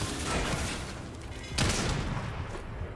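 Gunfire in the Fortnite video game, a dense burst of shots that continues throughout, with a louder crack partway through.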